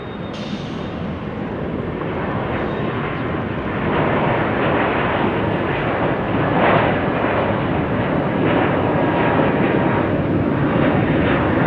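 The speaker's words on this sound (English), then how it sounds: "Oh, Cessna 402, that's a classic." A Cessna 402 twin-piston commuter airplane at Salt Lake City airport, a loud, steady engine drone with broadband roar, swelling slightly midway and holding strong to the end, no talking.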